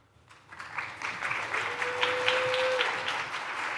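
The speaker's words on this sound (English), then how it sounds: "You got a cheering there." An audience at a conservation and environmental protection talk claps, the applause swelling quickly and holding steady at moderate distance, with a sustained tone running through part of it.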